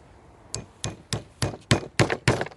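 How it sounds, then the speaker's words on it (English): A wire hanger is being fixed into a conifer Christmas wreath with staples, heard as seven sharp knocks in a steady rhythm that grow louder toward the end, close and with no voices. "I'm going to stick the hanger in. It's literally just a staple like that."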